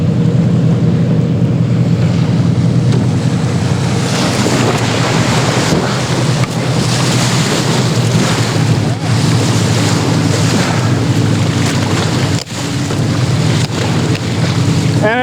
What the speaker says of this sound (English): This is the Mississippi River.